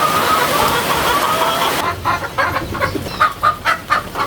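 A Rhode Island Red breeder chicken clucks close by, first under a rushing background noise, then in a run of distinct, rhythmic clucks once the noise drops away.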